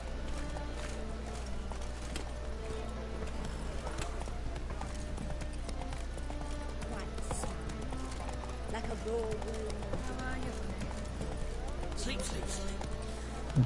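Horse hooves clip-clop steadily through The Witcher 3 game world, a rhythmic trot running the whole time beneath a constant low hum and ongoing talk.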